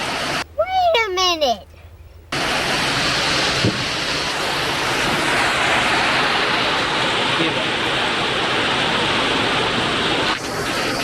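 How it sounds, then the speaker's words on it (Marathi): A voice briefly, then steady, loud rain hissing continuously with no pauses. "पाऊस सुरू झालाय"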